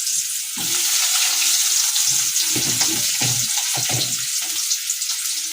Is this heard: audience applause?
no